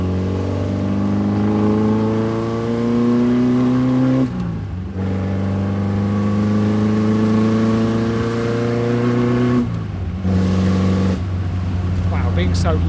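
A classic Porsche 356 flat-four engine drives steadily with a deep, continuous drone, its pitch rising and falling through revs with two brief gear-change dips, loud and close throughout.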